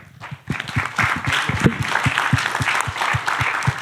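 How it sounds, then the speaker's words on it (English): A panel-talk audience gives a close, loud round of applause, sharp individual claps rising quickly into a steady, even patter that holds to the end. "please give a warm round of applause for Hsieh"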